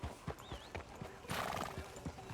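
In Red Dead Redemption 2, a horse's hooves clop in a steady walking rhythm, with a brief whinny partway through. Faint game ambience plays underneath.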